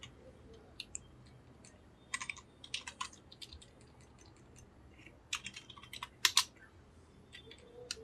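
Computer keyboard typing while writing code, soft scattered keystrokes in short irregular bursts with pauses between them, quiet and close against a faint room hum.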